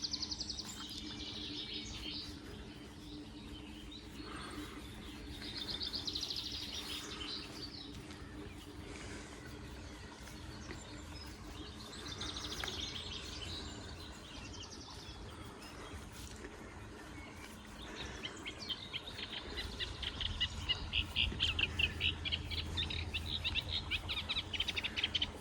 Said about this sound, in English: Lovely peaceful morning again with the birds singing.